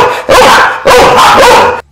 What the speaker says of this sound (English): Flushing toilets, shouting children, barking dogs.